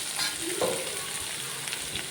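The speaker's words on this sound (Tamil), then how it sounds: "வெங்காயம் கேரட் பச்சை மிளகாய் இஞ்சி எல்லாமே போட்டு நல்லா வதக்கிடலாம்" Onions, carrots, green chillies and ginger sizzle steadily in a hot pan, with occasional scrapes and clinks of stirring over the constant frying hiss.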